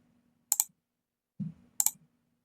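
A computer mouse gives two quick double clicks about a second apart, crisp and close in an otherwise quiet room, with a soft muffled thump between them.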